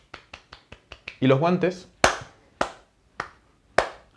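Hands clap in a steady series of sharp, close claps, and someone speaking Spanish briefly interrupts before the clapping resumes.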